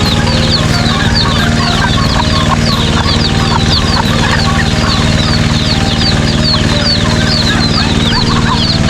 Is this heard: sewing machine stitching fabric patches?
no